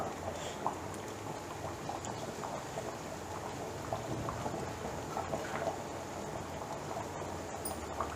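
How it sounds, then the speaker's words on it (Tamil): A pot of fish curry bubbles and simmers steadily, with soft popping and a continuous low rumbling gurgle, close up and without speech. "இப்போ பார்த்தீங்கன்னா மீன் குழம்பு வந்து நல்லா கொதிக்க ஆரம்பிச்சிருச்சு."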